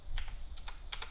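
A handful of quick, crisp keystrokes on a computer keyboard, about four taps in close succession, heard near and alone.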